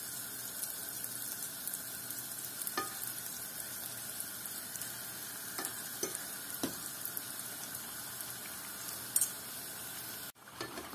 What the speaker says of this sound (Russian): Сейчас будем жарить лепешки кабартма татарские.